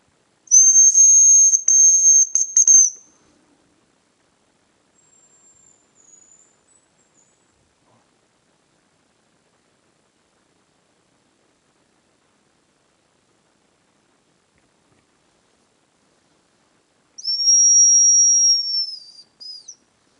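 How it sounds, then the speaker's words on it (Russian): Thin, high-pitched whistles of a hazel grouse in an autumn forest, a long sustained call at the start and another near the end, separated by near silence and a few faint whistles. "Второе место, где вон, свистят, где отзываются рябчики."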